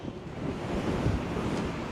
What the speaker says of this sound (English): The wind is definitely picking up.